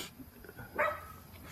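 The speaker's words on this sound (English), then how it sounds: "Well, now we got dogs barking." A single distant dog bark, short and faint, rising briefly above a quiet indoor background.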